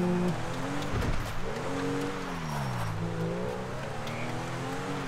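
A car engine drones and shifts pitch as it is driven around in GTA, with the revs sweeping up and down continuously, close and steady, with no talk.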